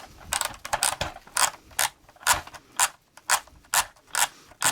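A plastic Playmobil toy pickup truck's winch is wound back up, giving a close series of regular ratcheting clicks, about a dozen crisp bursts in quick, even rhythm.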